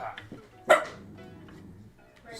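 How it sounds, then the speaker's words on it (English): A dog gives one sharp bark near the middle, with softer yips and low room noise around it, set in a home during a live gaming stream. "I am not making her bark."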